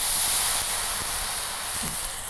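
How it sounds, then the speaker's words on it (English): Water hitting a hot pan to deglaze while cooking smoked potato tacos gives a loud, steady steam hiss that fills the whole moment and slowly fades, with no talking over it. "You can add a little bit of water to it, and that water is going to evaporate out, but it'll just kind of give it a little bit of steam action."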